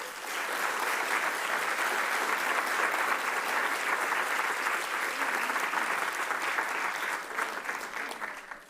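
Sustained applause from a full audience at an awards ceremony, a dense, even clatter of many hands that holds steady for most of the stretch before thinning slightly toward the end.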